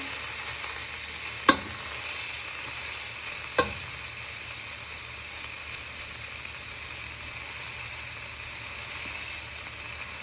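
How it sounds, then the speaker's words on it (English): Pulled pork meat sears in a hot pan with a steady, bright sizzle and hiss, broken by two sharp scraping knocks of a utensil pressing or moving the meat, close up with no talk. "And also you're starting to cook the meat."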